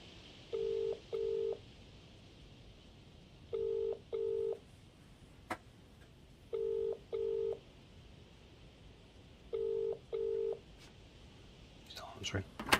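Old-style telephone in a video game being dialled: four paired bursts of DTMF-like tones spaced evenly at about three-second intervals, clear and close, with a few faint clicks and rustles at the end.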